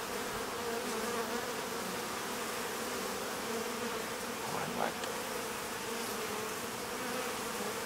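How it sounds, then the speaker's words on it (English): Honey bees crawl over a hive frame of honey with a dense, continuous buzzing drone. The hum comes from close by at a steady, quiet level, with no talk. "Look at them on their honey there."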